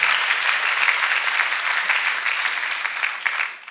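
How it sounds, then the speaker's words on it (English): A church congregation claps energetically, a dense, continuous burst of applause that tapers slightly at the end. "Can you clap for Master Jesus, children of God?"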